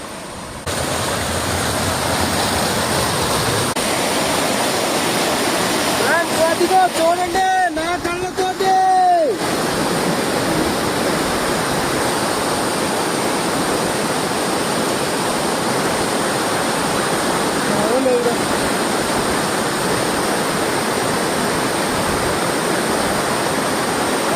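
Dumpavalasa waterfall near Maredumilli pours in a steady, loud, broadband roar of falling water that fills the whole span, with a brief burst of voices and clatter partway through.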